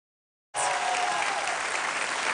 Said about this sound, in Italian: Un grande applauso, signore.